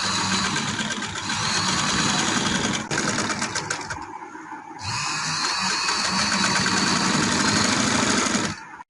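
Sewing machine stitching the final hem seam on a winter trouser cuff, a steady close whirring run that pauses briefly midway, then resumes at full speed before stopping abruptly.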